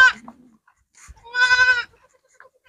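A breeding buck goat grazing on a farm gives a loud nearby bleat lasting about half a second, with faint bleats and a brief voice before and after against quiet surroundings.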